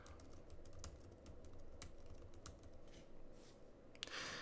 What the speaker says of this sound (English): I can enter the correct answers just by typing letters.